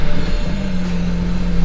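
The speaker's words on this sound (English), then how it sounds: "My car started. It doesn't really sound any different." A BMW 335i engine idling steadily after starting, a low constant rumble with a droning tone, close and loud with no break.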